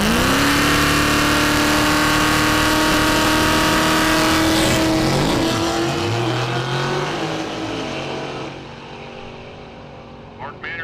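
Street-legal drag race cars at a Southeast event, including a Buick Regal, with a loud engine drone and a rising revving tone that sweeps up and down as cars launch and pull away, fading toward the end under an announcer's voice.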